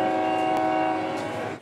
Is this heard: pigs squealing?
no